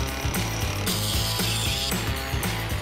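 A jackhammer breaks up a concrete patio with continuous loud, rapid mechanical pounding that comes in steady rhythmic pulses close by.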